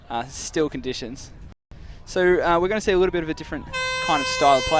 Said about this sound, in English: That's the siren to start the play.